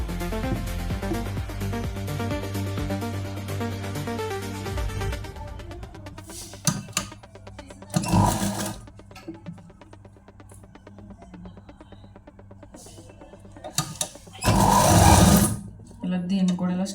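A sewing machine stitches the seams of a small doll's dress in rapid whirring bursts, a long run at the start and shorter runs later, with someone talking between them.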